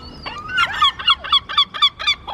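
Geese or similar fowl honk in a rapid run of loud, nasal calls near a coastal Portuguese town, about eight bursts in quick succession with a few overlapping voices.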